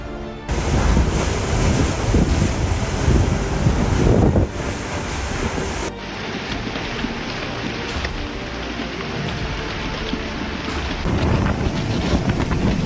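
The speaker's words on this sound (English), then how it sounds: "The winds cranked up so high, the debris wasn't just flying" Strong wind roars and buffets the microphone during extreme weather, a loud continuous blustery rush with gusty surges and no voices.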